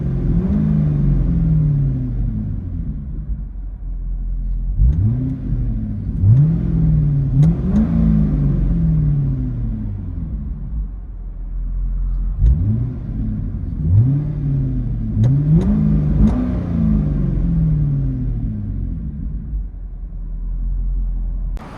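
A 2006 Chevrolet Corvette C6 with a 6.0-liter V8 and Borla S-Type exhaust, heard from inside the cabin: a deep constant drone broken by repeated rising revs through the gears, loud and close with no talking.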